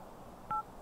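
A single short touch-tone dialing beep in The Sims, one clean electronic tone over a quiet background.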